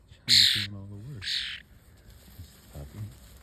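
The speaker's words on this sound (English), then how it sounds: "there is a bird and it can dig" A crow gives two loud, harsh caws close by while digging for worms in the dirt, followed by fainter rustling and a short low voice-like sound near the end.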